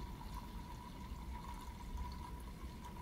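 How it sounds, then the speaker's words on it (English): Muddy water from settling backyard-dug pottery clay is poured from one bucket into another, giving a soft, steady, faint trickling pour with no talking. "I'm going to dump all the water out into my old dirty bucket here"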